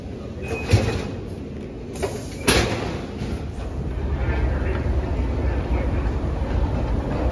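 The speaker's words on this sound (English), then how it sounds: "The train we're getting on is an old train, part of the legacy fleet." An old BART legacy-fleet train in San Francisco rumbles steadily, with a few sharp knocks and door clunks early on, then a continuous rolling drone of the carriage in motion.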